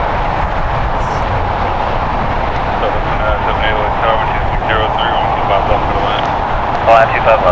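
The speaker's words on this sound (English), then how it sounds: "United Airlines Flight 39 going to Tokyo Haneda, Boeing 787-10 Dreamliner" A United Airlines Boeing 787-10 Dreamliner at LAX bound for Tokyo Haneda, a steady loud jet roar running throughout, with people talking over it.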